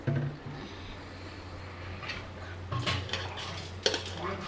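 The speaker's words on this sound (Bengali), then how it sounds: "আজকে শুকনা মরিচের ভর্তা হবে, তার জন্য শুকনা মরিচ ভেজে নিচ্ছি।" Dried red chillies fry in a pan, with a steady low hum, faint frying texture and scattered utensil scrapes and clinks that grow busier toward the end.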